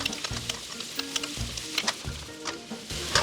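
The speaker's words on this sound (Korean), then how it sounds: "호박을 먼저 넣고 기름을 두르고 볶아주도록 하겠습니다" Sliced young zucchini stir-frying with oil in a pan, steady close sizzle broken by scraping and tossing strokes of a utensil, no voices.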